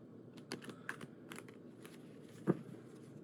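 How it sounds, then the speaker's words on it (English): Tarot cards being shuffled in a hand, a soft run of papery riffles and brief taps with one sharper snap near the end, close and quiet with no talking. "Let's go ahead and shuffle this deck now."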